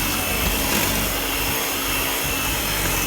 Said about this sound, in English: And now we'll mix this all up until it's all incorporated.